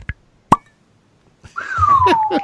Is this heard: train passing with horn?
no